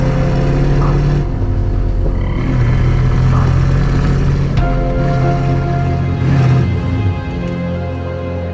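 A Pontiac Firebird engine idles steadily and loudly with a deep, continuous rumble, running but not revving under power, with small swells in level throughout and no talk over it.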